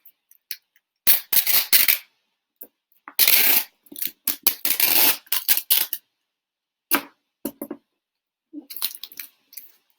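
Packing tape rips off the roll in several loud, close bursts while a time capsule box is sealed, separated by quiet gaps and small taps and crinkles.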